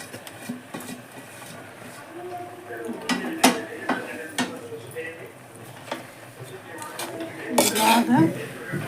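A spoon stirs soaked ground batter into a tamarind stew in a metal pot, making irregular clinks and scrapes against the pot with a faint simmer and soft voices.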